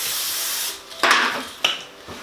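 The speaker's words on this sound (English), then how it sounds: "I have some Pam cooking spray here, and I'm just gonna spray my pan." Pam cooking spray misted onto a baking pan for brownie pizza: a steady hiss for most of a second, then two short sharp bursts and a brief final puff, close by.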